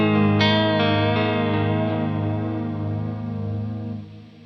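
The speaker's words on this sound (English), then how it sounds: "I think Cobalt's probably my favourite" An electric guitar played through a Matthews Effects Cobalt pedal rings out alone, with a few picked notes and a sustained chord swirling in a vibey, phaser-like modulation that slowly fades.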